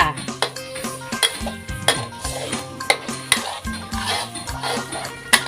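Spoon clattering and scraping against a pan while coconut milk is stirred for a Thai snail curry, a steady run of close metallic knocks and clinks with a low background hum.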